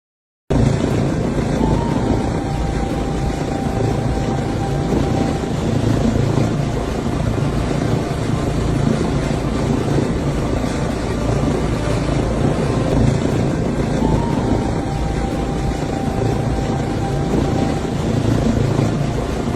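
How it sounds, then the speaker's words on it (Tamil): A helicopter hovers over a mountain summit in Spain while a large cross is set in place, its rotor and engine roar steady, loud and broadband throughout with no voices. "மிகப்பெரிய மலை உச்சியில் ஹெலிகாப்டர் மூலம் சிலுவை நிறுவப்படும் இந்த காட்சிகள்"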